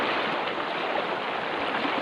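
A clear river in Dingalan, Aurora, on the way to Makibato Falls, flows with a steady broadband rush of water that stays even and close throughout, with no voices.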